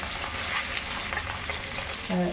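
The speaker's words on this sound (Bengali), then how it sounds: "তাহলে ইলিশ মাছের ডিম ভাজা হচ্ছে" Hilsa fish roe sizzles and crackles steadily in hot oil, close and continuous, with a brief clink of a utensil near the end.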